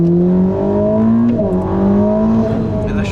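Ferrari SF90 Stradale accelerating at full throttle, a loud close engine note climbing steadily in pitch with a brief shift dip, constant droning roar throughout.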